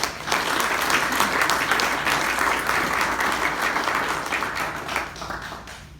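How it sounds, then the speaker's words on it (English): Audience applause at a Rotary Club of Leavenworth meeting welcoming a speaker, a dense, sustained wash of many hands clapping at moderate distance, fading out toward the end. "Give her a round of applause."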